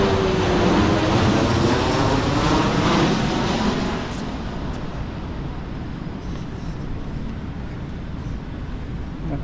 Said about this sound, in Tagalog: May parating na naman na aeroplano